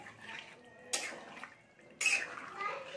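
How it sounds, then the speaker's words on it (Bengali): Hot water poured into a jackfruit and prawn curry with potatoes in the pot, two brief bursts of splashing with a quiet bubbling sizzle between them. "এবার আমি হাঁসও গরম জল দিয়ে দিলাম একটু"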